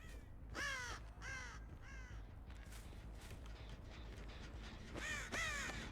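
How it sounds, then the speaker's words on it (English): A crow caws repeatedly in the horror game Dead by Daylight, sharp harsh calls in two clusters at the start and end over a steady low game ambience, with no talking. "We saw the crow jump away."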